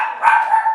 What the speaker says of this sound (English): Dogs are at it again. Someone's coming up the path